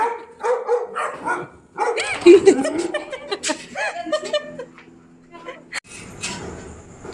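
Pet dogs at a family home in Sialkot bark in short bursts among lively chatter, laughter and voices of visitors arriving, with a door sliding near the end.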